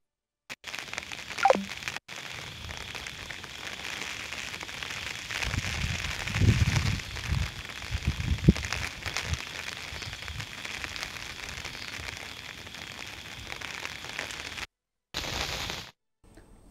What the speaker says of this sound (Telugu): మోంతా తుఫాను ప్రభావంతో విజయవాడలో భారీ వర్షాలు కురుస్తున్నాయి.